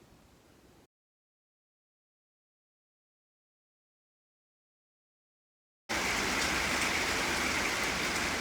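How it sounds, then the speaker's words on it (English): Steady rain pours down, a dense hiss of drops after a brief quiet gap, loud and continuous through the end. "And the rain continues."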